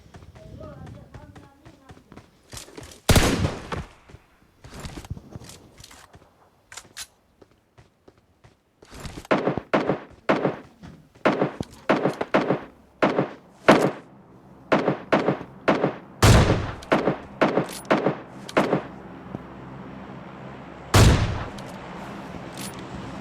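Gunfire in a video game, bursts of loud sharp shots with rapid clusters and pauses between them over quieter game noise, near and punchy.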